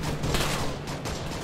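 Gunfire bombardment in the military game Arma 3, heard as a dense, continuous barrage of overlapping shots and blasts that fills the whole moment loudly.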